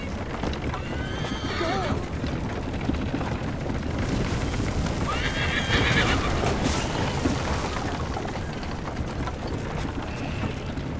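Horse neighing and clopping hooves in the Assassin's Creed Liberation video game, with loud whinnies rising over a dense, continuous rumble of game sound effects.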